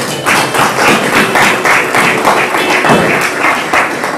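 A church congregation applauds loudly and steadily, with dense, close clapping and a few thumps across several seconds.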